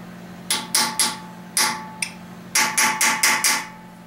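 Hammer striking the edge of a part during final assembly of a 1999 5.7 engine to raise small burrs, about a dozen sharp metallic taps in irregular clusters, close and loud with ringing decay.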